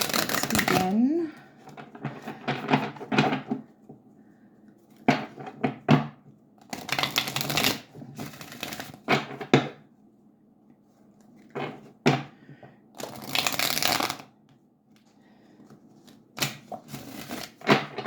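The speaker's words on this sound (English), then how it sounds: "One more shuffle." Tarot cards being shuffled by hand in bursts of riffling and flapping, several separate rounds with quiet gaps between them, recorded close with soft room noise.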